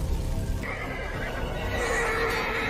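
A horse neighs in a Scooby-Doo cartoon, a loud, shaky whinny sustained for a couple of seconds over a dense, noisy background.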